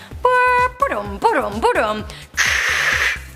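A voice imitates a dial-up modem: warbling tones, sliding squeals, then a harsh hissing static burst, close and loud.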